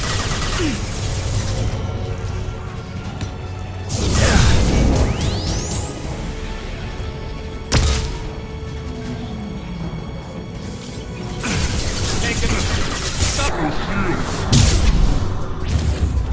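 Gunfire in the video game Mass Effect 2, with bursts of shots, booms and whooshing effects coming in loud waves across the clip, mixed with game sound and speech.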